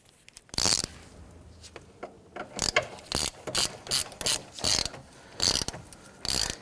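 A ratchet wrench snugs down a transmission mount bolt on a 2011-2015 Kia Sorento 2.4L four-cylinder, giving a string of sharp, close clicking bursts in an uneven rhythm with short pauses between strokes.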